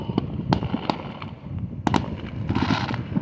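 Fourth of July fireworks bursting outdoors, several sharp pops and bangs in quick succession with crackling in between, fairly close and loud, with a denser crackling barrage near the end.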